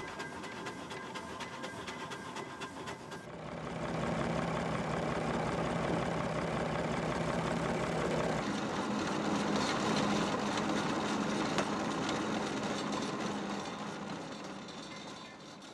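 Diesel-converted 1917 Fowler BB ploughing engine runs at a ploughing match, a steady low engine drone that swells louder and holds for several seconds before easing slightly, with no talk.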